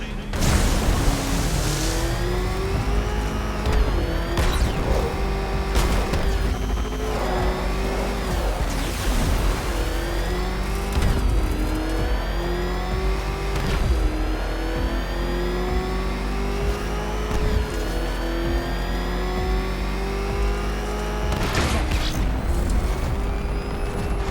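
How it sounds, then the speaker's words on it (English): A car engine in the Batman: Arkham Knight video game revs and roars loudly and continuously, pitch rising and falling through repeated accelerations, with short bangs and impacts. "Can that ramshackle motor handle this?"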